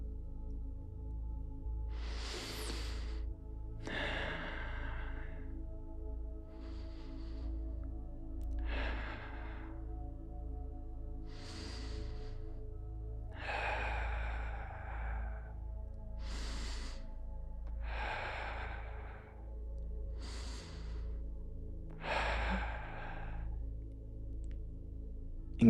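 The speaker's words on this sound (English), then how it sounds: "Let's take 5 more deep breaths together." A series of slow, deep breaths during a guided grounding meditation, about ten or so soft breathy inhales and exhales spaced a couple of seconds apart, close and alone over a quiet low hum.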